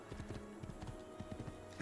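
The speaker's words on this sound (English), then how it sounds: "My horse is coming through here." Horse hooves clip-clop in Assassin's Creed II, a quick, steady run of close, crisp hoofbeats on a hard surface over a faint background hum.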